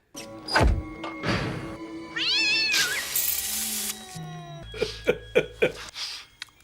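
A cat meows in a scene from the 1994 comedy film The Ref, with drawn-out rising and falling cries in the middle, mixed with other film sounds and short sharp bursts toward the end.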